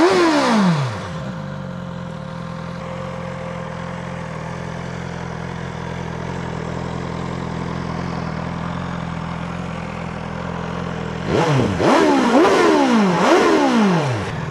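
BMW S1000 XR motorcycle engine, a revving blip fading into a long steady idle drone, then a series of sharp rising and falling revs near the end, close and loud with no talk.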